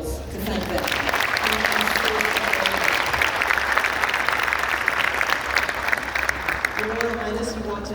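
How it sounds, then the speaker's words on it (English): Applause for ministers at a Saudi Green Initiative event linked to the 26th UN Climate Change Conference: a dense, steady round of clapping from a large audience sustained for several seconds, with voices murmuring beneath it. "A round of applause to thank them."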